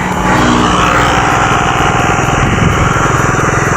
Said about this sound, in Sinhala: මේක යනවා අපේ පුංචිගේ බයික් එකේ.